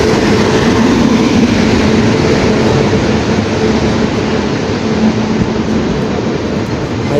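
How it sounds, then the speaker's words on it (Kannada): The Mysuru–Belagavi Superfast Express rolls past, a loud, close, continuous rumble of wheels and carriages with faint rhythmic rail clatter throughout, no voices. "Mysuru Belagavi super fast express"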